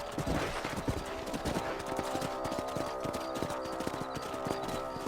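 Horse hooves clip-clop at a steady trotting rhythm in Red Dead Redemption on PS4, close and continuous, with faint game ambience behind them.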